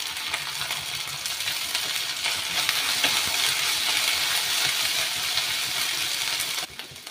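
Curry leaves hit a hot frying pan already holding ginger-garlic paste and chopped green chilies, giving a loud, steady crackling sizzle that runs continuously with faint stirring, then eases off near the end.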